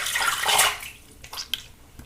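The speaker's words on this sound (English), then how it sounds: "let's rinse off a little bit" Water splashing and running as shave soap is rinsed off a face, a loud burst of splashing followed by a few smaller drips and splashes.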